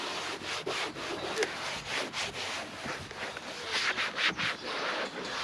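A microfiber cloth wipes across a car's surface in quick, rhythmic rubbing strokes, soft and close with no talking.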